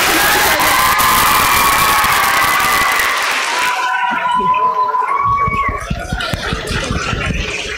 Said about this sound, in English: this group of girls can give her the biggest round of applause she's ever gotten